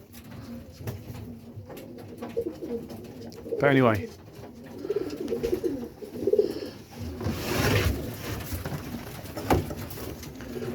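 Pigeons on a rooftop cooing in soft throaty rolls, with one clear nearby coo standing out amid light outdoor background noise and flutters while someone talks briefly.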